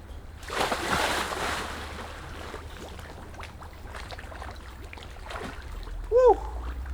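A person wades into knee-deep water outdoors in Illinois on a hot day for a dip, with a broad burst of splashing early on, quieter water movement afterward, and a brief voiced exclamation near the end.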